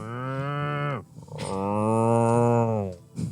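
A human voice imitates cattle with two long, deep moos, each a sustained droning bellow that slides down at the end, close and loud, with a short breath between them.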